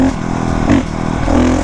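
A 450 motorcycle engine revs in cold air, loud and close with a rough, throbbing drone that rises briefly in pitch mid-burst before settling back.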